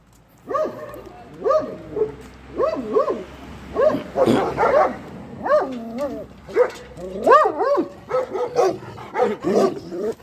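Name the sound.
dogs barking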